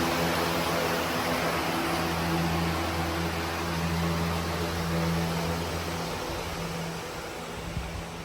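An electric fan runs steadily above livestock resting in summer heat, making a constant whooshing drone with a low motor hum and no talk.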